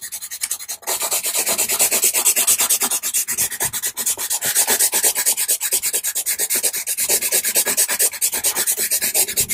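Pastel pencil colour, a bluey grey, being rubbed into paper for a sky tone, giving a steady close dry rasping scrape with quick repeated strokes throughout.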